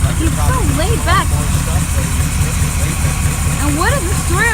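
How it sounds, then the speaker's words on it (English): A 1995 Ford kit car fitted with a 350 Chevy V8 idles with a steady, deep rumble, with people talking over it outdoors. "Built in 95, Ford kit car with a 350 Chevy engine in it."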